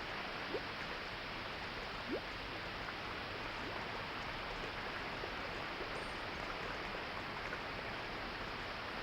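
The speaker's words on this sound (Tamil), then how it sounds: "வீட்டை சுத்தி தண்ணி வந்துருச்சு" Floodwater rushes steadily around a house in a film scene, making a loud, continuous broadband wash with no voices.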